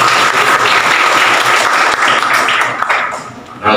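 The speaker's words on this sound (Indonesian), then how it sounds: "Tepuk tangan dulu buat temannya." Schoolchildren applaud together during a prosecutors' legal-awareness session at a school, dense clapping filling the room and fading slightly near the end before a brief swell.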